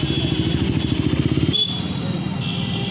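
Busy evening market street in India at a 7 pm traffic jam, with motorcycle and car engines rumbling and idling close by in a steady dense wash, plus a brief horn-like tone.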